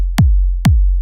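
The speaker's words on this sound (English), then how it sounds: "So this is the kick" A bassy kick drum sample for a Melbourne bounce drop thumps twice, each hit a punchy attack sliding into a deep sustained low boom, loud and alone with no other sounds.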